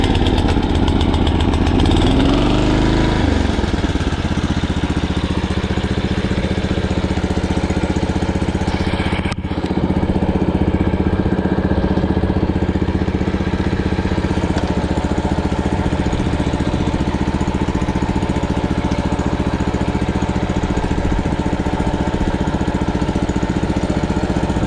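An old school Gravely walk-behind mower engine runs loud and close with a steady droning roar, a brief rise at the start settling into a constant rumble for the whole stretch.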